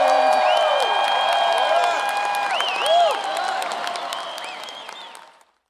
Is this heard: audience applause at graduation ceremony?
yes